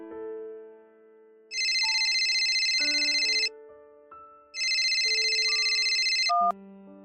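A mobile phone rings with an incoming call, a melodic electronic ringtone playing in two loud, repeated bursts with tonal notes between them, clear and alone.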